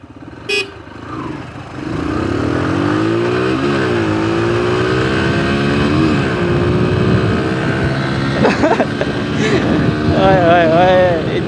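A Suzuki GR 150 and a Yamaha YBR 125 motorcycle drag race, their engines revving and accelerating loudly at close range, with rising and falling pitch sweeps as they pull away and a brief sharp sound near the start.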